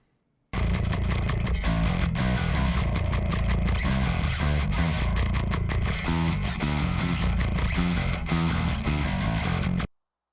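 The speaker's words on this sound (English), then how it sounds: "Listen to the distortion of the guitar" Heavily distorted electric guitar chugging through a dense, loud riff for about nine seconds before cutting off abruptly.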